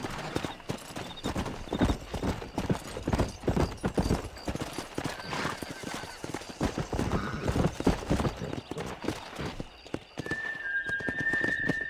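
A horse gallops steadily in Red Dead Redemption, its hooves drumming in a quick, continuous clip-clop rhythm, with a brief whinny and faint whistling near the end.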